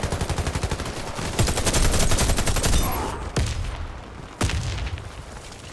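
Rapid automatic gunfire from the shooter game Warface on Nintendo Switch, a loud, fast stream of shots that runs for several seconds and is then followed by two separate sharp single blasts.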